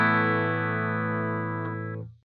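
Electric guitar through an Axe-Fx II on a clean tone with all effects off, a single strummed chord ringing bright and sustained for about two seconds before being cut off cleanly.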